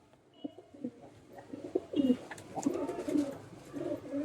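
Teddy pigeons in a Kolkata loft coo softly and repeatedly, low murmuring calls overlapping at close range against faint background noise.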